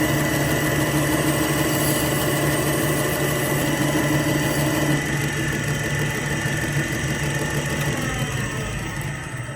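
Belt grinder running with a conditioning belt, a loud continuous whirring drone that holds steady, then eases slightly near the end.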